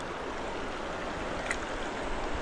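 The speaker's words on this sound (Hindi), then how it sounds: "वाटर फ्लो बहुत तेज है भाई पानी का" A fast-flowing mountain river rushes with a steady, broad hiss and gurgle close by, unbroken and with no voices.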